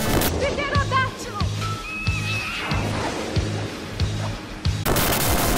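Retro run-and-gun gameplay from the Sega game Gunstar Heroes, with rapid repeated shots pulsing steadily under busy music and game effects, fairly loud throughout.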